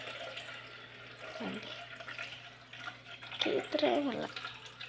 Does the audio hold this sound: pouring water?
yes